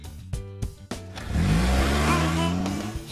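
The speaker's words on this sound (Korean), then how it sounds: "노랑버스가 달려요." A cartoon yellow bus pulls away, with a few short knocks and thumps followed by a rising engine rev that holds steady, close and fairly loud.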